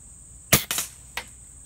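A Crosman 1377 American Classic air pistol fires a pellet into a wooden board: a sharp, close snap, a quick follow-up crack and a fainter third click, over a steady high background hiss.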